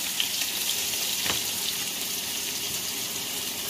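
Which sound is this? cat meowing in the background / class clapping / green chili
green chili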